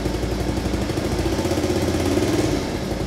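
A scooter engine idles up close with a steady rapid putter and rough exhaust throb, holding even throughout.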